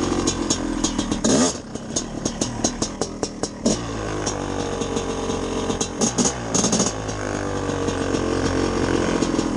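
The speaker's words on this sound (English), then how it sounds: "Hard to wheelie when you just spin the tire." A two-stroke dirt bike revs hard with its rear tire spinning, the engine whining and blatting through rising throttle bursts, loud and close, with crackling pops and a sustained high rev.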